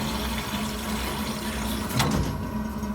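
Water rushes into a home heating system through a newly working feeder, a steady hiss of filling water over a low constant hum, close and uninterrupted, with a brief louder surge midway.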